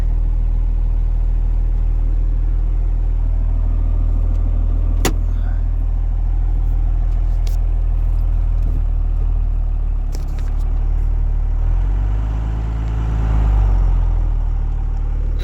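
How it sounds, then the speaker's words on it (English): A second-generation diesel truck engine fires up and settles into a steady, loud idle rumble, close by, with its exhaust right below the seat; the pitch and level lift briefly partway through. "Oh, she starts right up."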